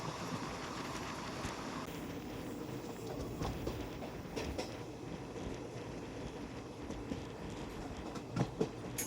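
Lucknow Express rolls along the rails between Chennai Central and Ongole near Arumbakkam, a steady rumbling clatter with faint rhythmic wheel clicks and no voices.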